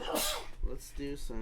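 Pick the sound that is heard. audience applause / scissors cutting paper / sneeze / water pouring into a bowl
sneeze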